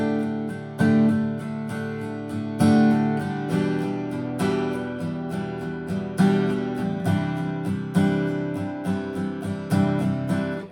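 Strummed acoustic guitar chords played in steady, driving down strokes, ringing full and close with a busy even rhythm; no one speaks.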